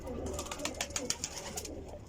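Domestic pigeons on a rooftop give soft cooing calls and wing flutters against a low steady background hum, moderately near.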